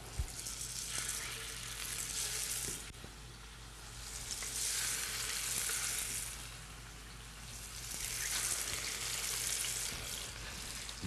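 Salted and peppered pork medallions sizzle steadily in a hot pan, a close, continuous frying hiss that swells and eases in slow waves.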